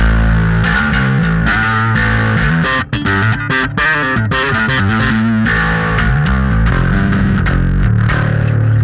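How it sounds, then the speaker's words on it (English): A heavily distorted, aggressive bass tone from a cheap bass with EMG pickups in drop D through a Vintage Ultra, playing a riff with chugging low notes, loud and continuous with no talking. "I dialed in a pretty aggressive bass tone."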